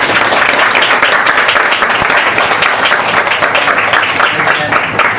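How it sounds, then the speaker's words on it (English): A crowd at an education event breaks into loud, sustained applause for speakers, dense clapping filling the room steadily for several seconds. "Can I get a big round of applause and thanks for our speakers."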